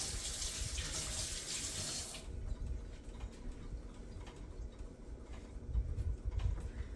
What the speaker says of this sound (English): rinse off my fork